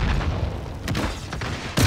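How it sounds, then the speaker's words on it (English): An RPG blast in the video game Modern Warfare lands as a short, heavy boom followed by a rumbling tail and a second sharp burst at the end, loud and close. "Oh, that was an excellent RPG."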